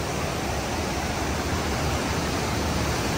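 Hidden waterfall in North Kashmir, its cold water pouring in a steady, dense broadband roar that stays constant and close throughout, with no voices over it.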